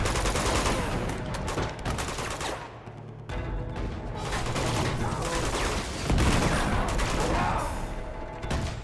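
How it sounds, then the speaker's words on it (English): Uncharted 2 combat pours out loud, sustained gunfire mixed with grenade launcher blasts, dense overlapping shots and booms filling the whole stretch with barely a pause. "RPG guy is shooting me again. Hey, wait a minute. That's a grenade launcher."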